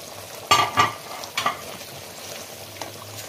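Doi maach, a Bengali yogurt fish curry, cooks in a pan, with a few sharp scraping stirs over a low, steady simmering sizzle, close and fairly quiet.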